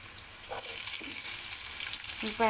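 Onions sizzle in plenty of hot oil alongside bitter gourd, a steady, even hiss held throughout with a couple of faint clinks, and no voices.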